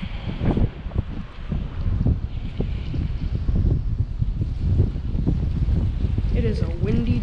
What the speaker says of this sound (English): It is a windy day out.